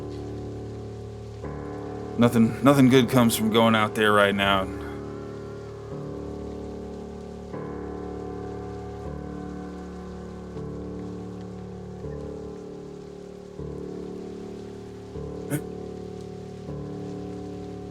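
Steady rain falls in a storm as a constant hiss that runs the whole time, under sustained low musical tones, with someone speaking briefly near the start.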